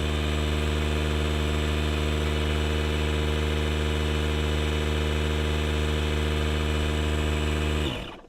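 A DeWalt cordless compressor runs steadily while inflating a truck tire, a loud even motor drone with a strong hum that holds for several seconds, then cuts off abruptly at the end.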